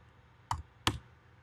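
Two distinct clicks, like keys struck on a computer keyboard, close and fairly quiet against a near-silent background, with no talk.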